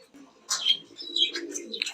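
A pair of racer pigeons coo close by, with short throaty calls and a few chirps spread over two seconds, nearly alone with little background.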